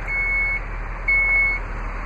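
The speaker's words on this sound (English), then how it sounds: "to close the rear lift gate, just press the lift gate button on the trim panel" Two steady electronic warning beeps from the power rear liftgate of a 2011 Dodge Durango Citadel AWD, each about half a second long and spaced apart, over a quiet low background hum.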